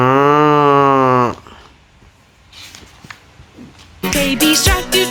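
Water buffalo giving one long, loud, low moo as a sound effect in a children's story, followed by quiet and then a brief burst of louder sound.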